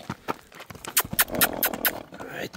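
Hooves of a Kyrgyz crossbreed horse clop on the ground in an uneven walking rhythm at close range, and people talk nearby throughout.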